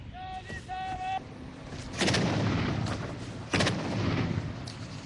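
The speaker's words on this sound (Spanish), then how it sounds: "artillería pesada por el ángulo disparando a gran distancia" Heavy artillery firing at long range in a combat zone: two deep booming blasts with rumbling tails, about a second and a half apart, following a brief tonal sound at the start.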